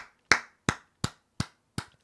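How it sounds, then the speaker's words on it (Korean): Five sharp, isolated hand claps spaced at an even, slow rhythm, close and fairly loud with silence between each clap. "나는 우리 개혁신당 허은하 대표님의 이런 말씀 박수 쳐드립니다"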